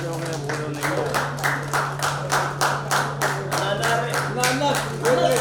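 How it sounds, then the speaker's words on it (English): Crowd clapping at a product launch event, a rhythmic, loud round of applause with distinct repeated claps, over a steady electrical hum, with voices talking and calling out in the background. "Big round of applause, everyone."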